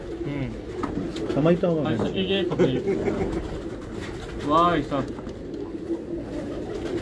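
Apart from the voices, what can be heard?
pigeons cooing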